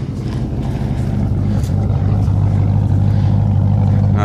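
Loud, steady rumble of a 1995 Ford Mustang 5.0 V8 idling close by, a deep even drone with a slight throaty pulse and no talking.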